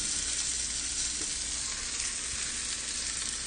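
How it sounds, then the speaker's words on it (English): Food sears in a hot pan during a home cooking stream, giving a steady, dense sizzle and fry hiss that runs evenly through the whole stretch with no talk. "We'll sear the side a little."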